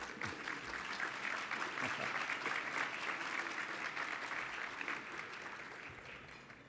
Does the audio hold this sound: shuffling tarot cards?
no